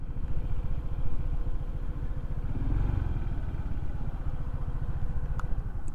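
A motorcycle engine runs with a steady, low, rumbling idle that stays even and close for the whole stretch, with no voices over it.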